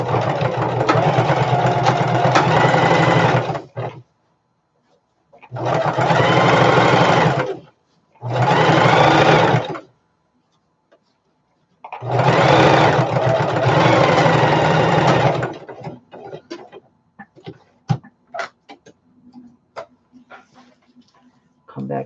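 A sewing machine stitches the seam of a fabric storage bin, running in several loud, steady bursts with short pauses between them and back-and-forth stitching. Quiet handling clicks and rustles follow at the end.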